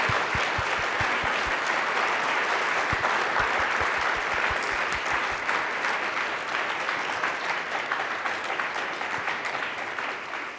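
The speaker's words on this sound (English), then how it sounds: "I would like for us to give one more round of applause to this wonderful panel." Steady, sustained audience applause for a panel at a social justice and health discussion event, dense and even throughout, with no talking over it.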